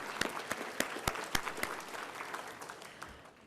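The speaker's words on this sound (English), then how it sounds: "Let's give you all another round of applause." Clapping from a graduation ceremony crowd, dense and steady with sharp individual claps standing out, filling the whole stretch at moderate level before tapering slightly toward the end.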